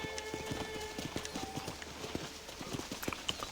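Horse hooves clopping in the Red Dead Redemption video game, a steady run of close, sharp clip-clop strikes continuing throughout with no voices over them.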